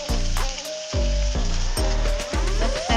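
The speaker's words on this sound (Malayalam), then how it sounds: "ഇതിലേക്ക് നമുക്ക് കറിവേപ്പില ഇട്ട് കൊടുക്കാം കറിവേപ്പിലയിൽ വെള്ളമുണ്ട് ഇതിലേക്ക് നമുക്ക് പച്ചമുളകും ഇഞ്ചിയും പുളി ഇട്ട് കൊടുക്കാം" Curry leaves, green chili and ginger dropped into hot oil, loud close bursts of sizzling and spattering that surge and ease in several waves, alone without talk.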